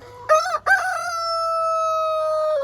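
A rooster crows nearby: a couple of short clucking notes, then a long drawn-out call that holds steady before trailing off.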